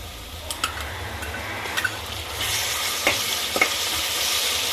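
Sliced onion with ginger garlic paste sautés in a pan, a steady close sizzle with occasional scrapes and clinks of a stirring spoon; no talk.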